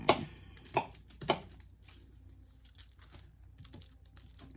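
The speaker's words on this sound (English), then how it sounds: "I'm just literally making crumbles, and yes, they're still kind of wet, but just crunching them up" Still-wet wax being crunched into crumbles on aluminium foil, giving a few sharp, close crinkling crunches early on, then fainter scattered rustles.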